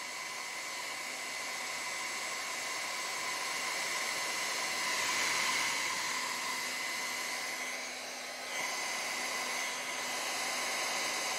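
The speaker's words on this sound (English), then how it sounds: "this blow dryer is like blowing everything away." A blow dryer runs steadily at close range, blowing alcohol ink across a canvas with a broad, even airy roar that swells slightly midway and dips briefly near the end.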